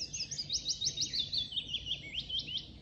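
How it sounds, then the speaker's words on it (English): A willow warbler sings at dawn in Hembury woods in May, a sweet descending cascade of high notes repeating in quick phrases, moderately close over quiet woodland ambience. "And there's the willow warbler."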